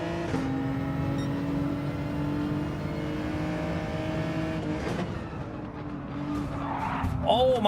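Race car skidding and tires squealing in Gran Turismo 7 during a GT World Series London race, engines droning steadily throughout with a sharper screech near the end, voices talking over it.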